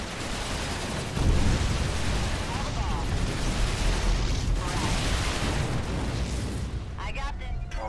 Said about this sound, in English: Go ahead, Nuclear missile ready.